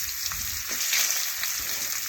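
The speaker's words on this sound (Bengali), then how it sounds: "মাথাগুলো উল্টে পাল্টে ভালোভাবে ভেজে নেব।" Two rohu fish heads frying in hot oil, a continuous close crackling sizzle with small pops and occasional stirring or turning sounds, steady in loudness with no talk.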